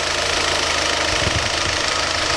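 Volkswagen Golf 3 Cabriolet engine running at idle: a steady, close, low rumble with a rapid knocking pulse, with no voices.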